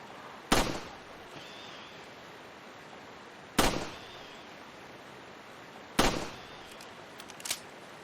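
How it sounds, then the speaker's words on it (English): Three sharp gunshots in a Resident Evil game ring out a few seconds apart over a steady rushing water background, with a couple of faint reloading clicks near the end. "Try to pay attention to the sound of the water flowing in the background and the sound effects for gunshots"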